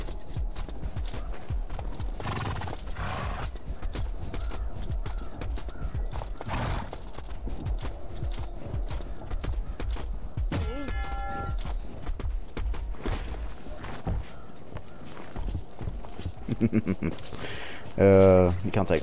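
Horse hooves clip-clop through a medieval melee in the video game War of the Roses, with the occasional whinny, rhythmic and fairly close under a busy mix of game noise and people talking.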